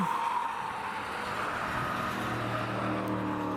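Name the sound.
BMW E46 3 Series car driving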